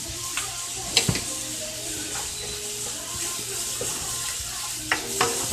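Vegetables sautéing in a big pot for Southern fried corn, giving a soft, steady sizzle with faint scrapes and a few sharp utensil clicks against the pot, heard up close with no talking.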